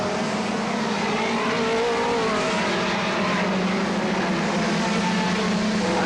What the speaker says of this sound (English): You can see he's already having to start passing some of the back marker cars.